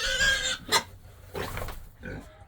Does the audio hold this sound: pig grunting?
yes